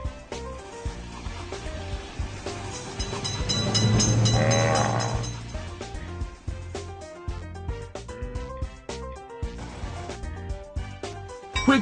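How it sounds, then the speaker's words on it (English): Train approaching in the video game Railroad Crossing, a rumbling engine swelling to a loud peak with a horn blast at its height, then rhythmic clattering and clanking wheels over a repeating game music pattern. "Attention! Train is coming! Train is in sight!"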